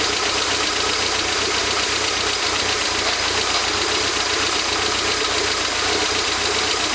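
A 1992 Toyota MR2 engine running with a misfire, a steady loud mechanical drone with a dense rough, knocking texture, heard close and continuous, with no talking.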